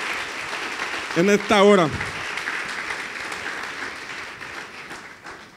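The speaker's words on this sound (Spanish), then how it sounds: "Alguien dele un aplauso fuerte al Señor" A church congregation claps loudly for the Lord during a sermon. Dense, steady applause fills the whole clip, and a voice briefly speaks over it.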